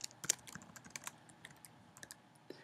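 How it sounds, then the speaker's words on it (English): Quiet computer keyboard typing while Python commands are entered, a run of light, irregular clicks and taps close up with no voices. "we can try to print hello world by just typing the Python commands for that"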